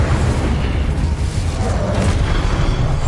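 Incendio fire spell cast in Hogwarts Legacy, heard as a loud, sustained booming whoosh of flame with dense low rumble filling the moment, steady throughout with no pause.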